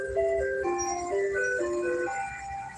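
An ice cream truck's jingle plays loud and near as a stepped melody of tinny electronic notes, over a low running engine.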